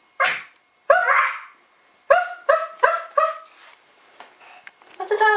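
A 17-month-old toddler imitates a dog barking, giving a string of short voiced yips and woofs in uneven bursts, close and fairly loud, with brief pauses between them and a quicker cluster near the end.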